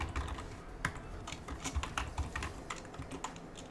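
Keystrokes tapped out on a computer keyboard while entering a username and password, a close, irregular run of light clicks with brief pauses between bursts.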